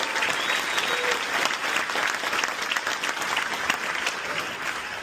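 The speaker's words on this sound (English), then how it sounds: "Let's give her a big round of applause." Audience at a South Carolina political debate gives an organizer a big round of applause: thick, continuous clapping from many people, fairly loud and even throughout.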